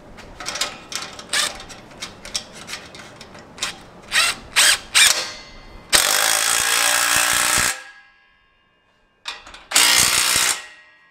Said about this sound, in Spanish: con cubo 17 vamos a apretar